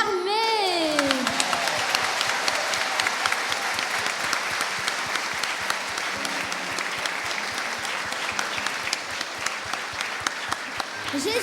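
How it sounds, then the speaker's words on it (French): Generous, sustained applause from a large congregation at a church youth service in Évry, with dense clapping and distinct sharp claps standing out, plus voices and cheering mixed in. "Mesdames, messieurs, je vous demande d'applaudir généreusement l'Éternel des armées."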